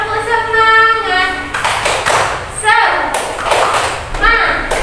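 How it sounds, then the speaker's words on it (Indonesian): Schoolchildren in a fourth-grade classroom chant and clap a rhythmic 'tepuk semangat' cheer together, loud and close, with sung voices and bursts of clapping and thumps. "Yuk, kita tepuk semangat ya."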